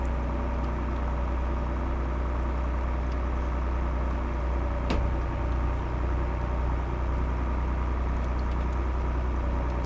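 A tractor engine in Farming Simulator drives along with a steady, loud, low drone and a constant idle-like rumble throughout, alone without talk.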